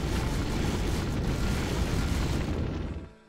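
Rocket boots launching in World of Warcraft: a dense, loud roaring whoosh of thrust that holds steady for about three seconds, then cuts off abruptly.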